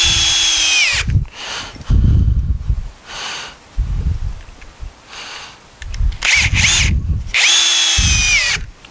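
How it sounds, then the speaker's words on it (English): A cordless power drill drives screws into live edge wood while a picnic table is assembled, with several loud close whirring bursts, each ramping and stopping, separated by brief pauses of handling. "So I run a couple screws through it like that."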